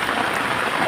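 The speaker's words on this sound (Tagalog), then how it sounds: "grabe dito, tuloy-tuloy pang ulan" Continuous rain falls in a steady, dense hiss with no breaks, loud and close, with no voices over it.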